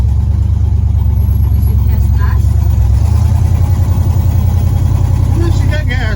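A Jeep engine idling loud and close with a deep steady throb, then rising in a rev as the tires are made to lay rubber, while people talk over it.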